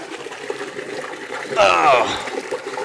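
Water washes over raked coffee pulp at a coffee mill, a soft steady trickle that swells into a brief louder splash in the middle, heard close.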